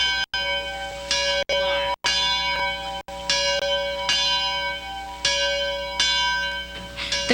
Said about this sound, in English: The clang of a bell can be heard for a great distance.